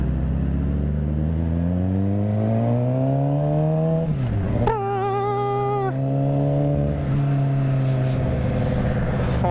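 A sports car passes close by with a strong engine note rising and falling as it goes past, heard over the steady drone of a motorcycle engine with a brief high whine in the middle.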